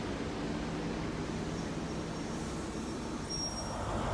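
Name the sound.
train departing Bristol Parkway station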